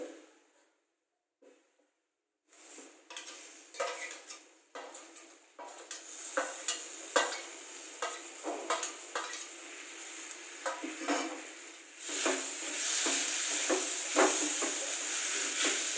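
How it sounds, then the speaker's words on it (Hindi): Tomatoes being stirred into cooked masala for a paneer curry, starting after a silent moment with repeated spatula scrapes and clinks in the pan, then a louder sustained sizzle swelling over the final seconds. "इसमें हम अभी टमाटर मिक्स कर लेंगे।"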